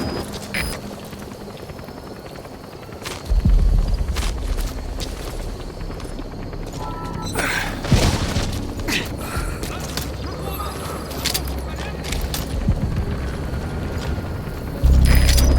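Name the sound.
support helicopter arriving in Metal Gear Solid V video game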